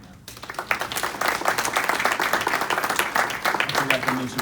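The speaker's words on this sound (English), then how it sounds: "give all the township employees a nice round of applause right now" Township annual meeting audience clapping for the township employees, a fairly close, steady round of many hands lasting several seconds with some voices underneath.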